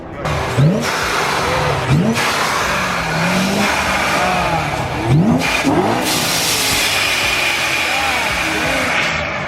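A loud supercharged BMW M3 engine revving repeatedly, pitch sweeping up and down in bursts, with people talking over the roar.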